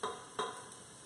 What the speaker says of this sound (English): I'm going to stir that around as well